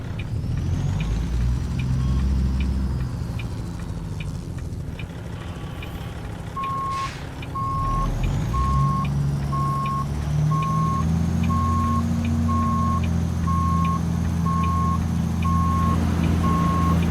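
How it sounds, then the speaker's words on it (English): A truck's backup beeper in American Truck Simulator sounds a loud, evenly spaced series of electronic beeps over the low rumble of an idling diesel engine. A brief hiss of air brakes comes before the beeping starts. "Backup beeper. I hate that thing."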